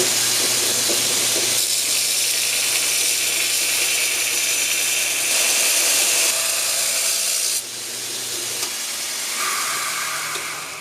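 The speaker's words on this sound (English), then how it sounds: "I'm going to go ahead and put that first full flat grind bevel on" Belt grinder grinds a full flat bevel on a hand-forged steel camp knife blade, a loud, continuous hissing rasp close by with slight shifts in pitch as the pressure changes.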